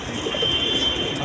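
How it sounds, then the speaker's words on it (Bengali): Pakistani pigeons of a named breed on a pigeon farm, a soft low cooing close by against a steady background hum. "নাম করা পাকিস্তানি কবুতর"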